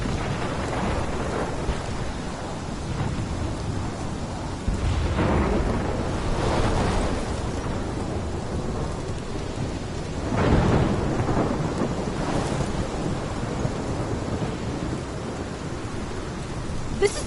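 A thunderstorm in the video game Life is Strange: steady heavy rain hisses throughout while deep thunder rolls swell several times, loud and close, with no voices.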